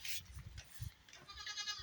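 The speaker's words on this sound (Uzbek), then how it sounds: "Bu echkimiz La Mancha paroda" A La Mancha goat bleats softly a few times in a barnyard, fairly faint with some rustling around it.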